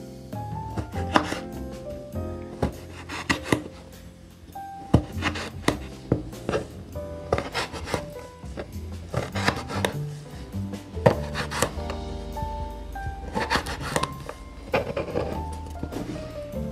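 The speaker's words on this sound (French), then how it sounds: "On va couper les 2 extrémités." A knife chops through a pineapple on a cutting board, giving close, loud, irregular thunks and scrapes in quick succession, with no one talking.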